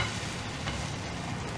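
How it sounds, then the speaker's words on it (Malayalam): Bread stuffed with egg frying in a pan over low heat, giving a steady close crackling sizzle that holds evenly and alone for a brief moment. "ഈ വശം സ്വല്പം കൂടെ ഫ്രൈ ചെയ്യാം."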